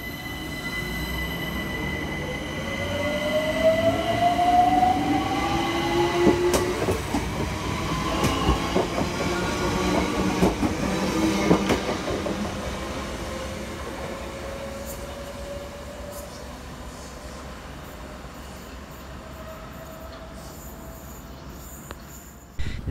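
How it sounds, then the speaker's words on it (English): London Overground Class 378 unit 378217 pulls out of Imperial Wharf station, its electric motor whine rising in pitch over wheel squeal and rail clatter, loud at first and then slowly fading, with no talking. "Next out to depart is 378217, working the 1438 London Overground service from Clapham Junction through to Stratford."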